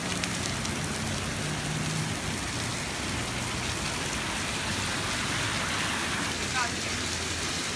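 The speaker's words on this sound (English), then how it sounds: "It's raining a lot." Dense, heavy rain hisses steadily and evenly throughout, with faint voices and traffic rumble buried underneath.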